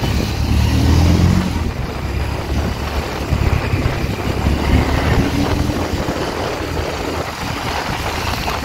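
A 2017 Harley-Davidson Street Rod 750 motorcycle being ridden and weaving in a zigzag, with a steady loud engine drone mixed with road and wind rush.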